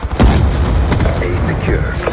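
Concussion grenade blast in a capture-the-objectives shooter game, a loud thump near the start followed by a dense rumbling din with overlapping voices and game chatter.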